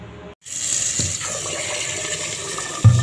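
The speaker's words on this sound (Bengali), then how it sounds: "এখন চালটা ধুয়ে নেবো" A tap is turned on to wash rice, and water gushes steadily into a pot after a brief pause, close and loud, with a soft thud near the end.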